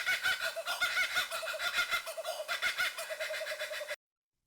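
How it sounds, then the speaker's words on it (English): A laughing kookaburra gives its loud, rhythmic cackling call, a dense run of repeated hooting and chuckling notes that pulses steadily for several seconds before cutting off abruptly. "So that's a laughing kookaburra."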